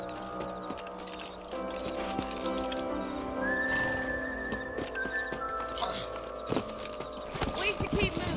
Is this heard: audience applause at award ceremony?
no